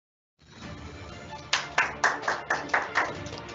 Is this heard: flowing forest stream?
no